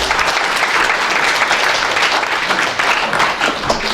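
A Korean forum audience applauds to welcome a group of pastors, a steady, full round of clapping that runs loud and unbroken for about four seconds.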